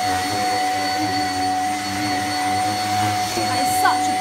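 A Shark powerhead vacuum cleaner runs steadily on carpet, its loud, close motor drone and whine continuous throughout with a brief bump near the end.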